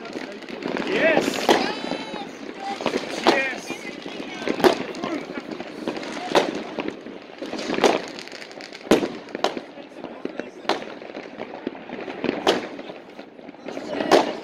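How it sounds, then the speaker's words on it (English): New Year's night fireworks and firecrackers burst repeatedly outdoors, sharp cracks and booms at irregular intervals, some near and loud, with whistling rockets and people talking in between. "Nice night for fireworks this time, guys"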